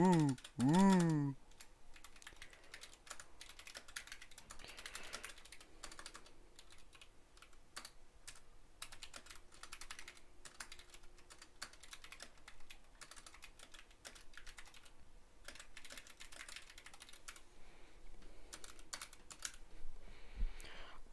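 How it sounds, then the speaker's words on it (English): Typing on a computer keyboard during a programming session, a steady run of soft, close clicks and key taps with brief pauses, mostly alone after a short burst of sound at the start. "look how much it bounces when I type"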